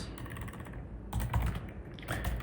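Rapid clicking keystrokes on a computer keyboard come in quick bursts with brief pauses between them, close and clear, with no voices.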